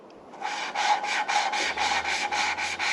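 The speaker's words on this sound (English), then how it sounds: "This just helps move it around the valve seat." An engine valve is lapped by hand against its valve seat, making a gritty, rhythmic rubbing and rasping that repeats in quick, even strokes, close and clear with nothing else over it.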